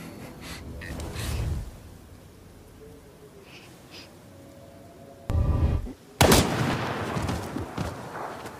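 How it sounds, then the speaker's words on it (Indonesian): A gunshot in a dramatic film fight scene: after quiet, a sharp loud blast rings out, followed by a second heavy burst and lingering rumble, close and forceful. "Hinako menembak Utsubo hingga terkapar"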